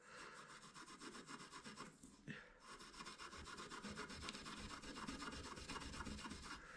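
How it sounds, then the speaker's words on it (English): Very fine gauge steel wool rubs back and forth over a guitar's finish, a quiet, steady scratchy rasp in quick regular strokes with one short pause, no voices. "give it a good rub like that, and then got some very fine gauge steel wool."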